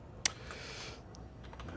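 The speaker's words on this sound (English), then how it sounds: "Lovely typing here." Keys tap faintly on a computer keyboard, with one sharper click standing out among soft, scattered keystrokes in a quiet room.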